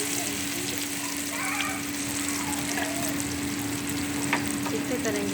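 Potato and onion mixture with cumin cooking in oil and butter gives a dense, continuous sizzle with stirring scrapes, loud and close, and a voice speaks faintly over it.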